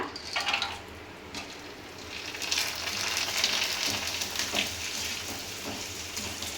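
Tempering spices drop into hot oil in a fairly quiet pan, giving a crackling, rain-like sizzle that swells after a few seconds and keeps popping and spitting with no talk.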